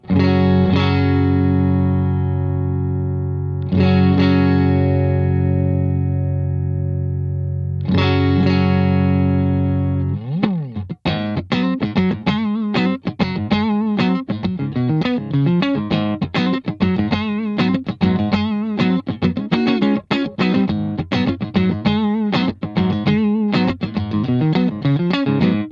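Electric guitar through the Neural DSP Archetype Cory Wong plugin with compression, saturation and EQ, three ringing sustained chords followed by a long run of tight, rhythmic funky muted strumming, loud and uninterrupted.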